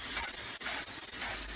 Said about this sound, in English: I'm gonna spray my hair all up in the thinning area.